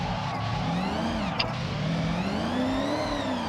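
Evo IX drift car engine in third gear in Forza Horizon, a steady droning note that slowly rises and dips in pitch, continuous and fairly close, with a brief sharp blip midway.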